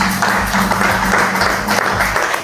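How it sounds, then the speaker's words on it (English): An audience gives a steady round of clapping at an event, a continuous dense patter of hands with low voices or music murmuring faintly underneath. "Let us give them a great round of applause"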